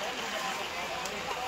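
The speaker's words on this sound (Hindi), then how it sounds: "बारिश बहुत तेज है" Heavy monsoon rain during the Sawan season at Kailash Gufa in Jashpur makes a dense, continuous broadband hiss that fills the whole moment, with a voice faintly present beneath the downpour.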